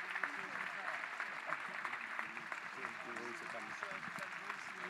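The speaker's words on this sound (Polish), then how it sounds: "Wielkie brawa, słuchajcie, dla naszych księży." Faint, distant applause from a congregation at a church retreat for the priests, heard as a soft continuous patter of clapping with voices talking over it.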